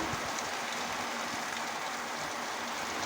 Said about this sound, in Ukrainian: Дощ посилюється.